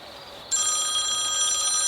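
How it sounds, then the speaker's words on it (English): A phone rings indoors in a garage workshop with a bright, electronic, trilling ringtone. It starts abruptly and continues steadily at moderate volume, with no other sound. "Oh, my phone's ringing."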